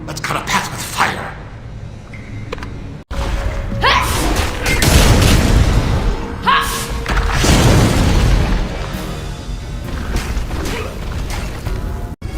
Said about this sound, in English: Use the flamethrower. Let's cut a path with fire.